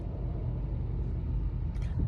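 Heavy road traffic on a cold morning commute rumbles steadily at close range, a constant low drone of engines with a brief hiss near the end, and no talking.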